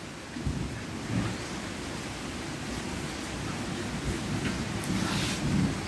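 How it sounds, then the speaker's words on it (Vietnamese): Steady rain pours down in a thunderstorm, a dense continuous hiss with low rolling rumbles of thunder swelling beneath it, and no voices. "Trời mưa buồn quá mà."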